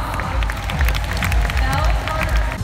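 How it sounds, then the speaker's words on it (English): Loud applause from a large crowd, steady clapping with murmuring voices mixed in, sustained throughout. "Let's give them a round of applause."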